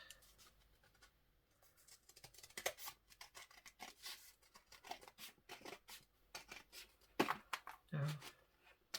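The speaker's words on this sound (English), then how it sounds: "I'll just cut that off with the scissors." Scissors snip through paper and card while an envelope journal is trimmed, crisp close cuts and rustling coming in short irregular bursts, with a person talking quietly in between.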